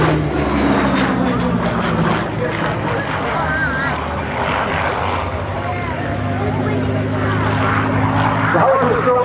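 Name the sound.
Hawker Hurricane aircraft propeller engine at airshow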